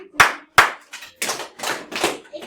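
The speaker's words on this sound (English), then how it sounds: "what do the claps mean?" Several sharp hand claps in a classroom during a math review game, a few crisp isolated claps followed by a quicker burst of louder clapping from students, close and fairly loud.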